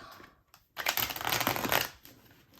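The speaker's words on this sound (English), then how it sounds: "let's give this one more good shuffle and get into it." Tarot cards being shuffled by hand, a brief soft riffle then a steady rustling burst of card flicks lasting over a second, close and fairly quiet, with no talking.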